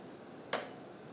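A single crisp finger snap rings out alone in an otherwise quiet room, one short sharp click.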